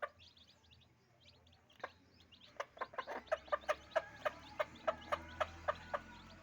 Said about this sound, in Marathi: बघा कशी बोलवते तिच्या पिल्लांनी